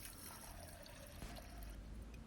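Cold water is poured over beans in a pot, a soft, steady trickling and splashing stream that stays fairly quiet throughout with no talking.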